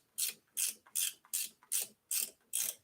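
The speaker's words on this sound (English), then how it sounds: "I'm using my top peak ratchet wrench, and it's actually allowing me to get in here" A Topeak ratchet wrench turning on a fat-tire Cyrusher Kommoda step-thru e-bike, seven evenly spaced, bright clicking pawl sweeps, close and with no voices.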